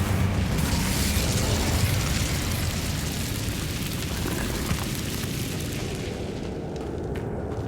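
A fire spell cast in Hogwarts Legacy gives a loud, sustained roaring burst of flame that crackles like heavy rain and fades slowly over several seconds, with no talk over it.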